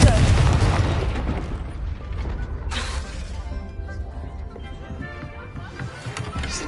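A Confringo blasting spell explodes in the Hogwarts Legacy video game, opening with a loud, broad blast that fades into rumbling debris, followed by a second sharp burst, with a voice talking over the game sounds.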